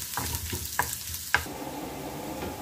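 Chopped garlic fries in oil until light brown for a red lentil dish with pumpkin shoots, giving a steady close sizzle broken by a few sharp clinks of stirring.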